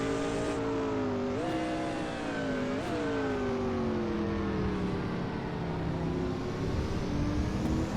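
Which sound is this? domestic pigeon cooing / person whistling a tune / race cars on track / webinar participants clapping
race cars on track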